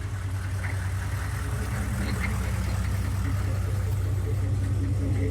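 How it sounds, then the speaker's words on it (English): A 1994 GMC Yukon two-door with a 6.5L turbo diesel and Gibson exhaust idles steadily, a constant low rumble with a faint ticking clatter, fairly close and unbroken for the whole stretch. "The Gibson exhaust sounds really nice."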